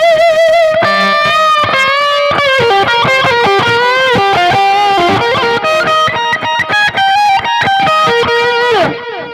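An overdriven electric guitar plays a fast, melodic solo drenched in delay and reverb, with sustained bends and quick note runs ringing out loud and continuous before trailing off at the end.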